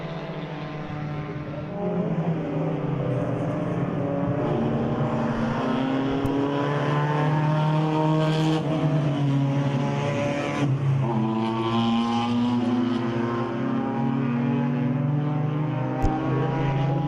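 Race cars, including a Polo, roar past in the Zwartkops 500-mile endurance race, with engines droning and shifting pitch as several cars pass at once, loud and continuous in the open air.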